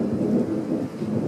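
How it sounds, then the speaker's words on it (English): Rain in Fort Worth, Texas, with low thunder rumbling steadily underneath, a dense continuous wash with no voices. "A bunch of drops of rain."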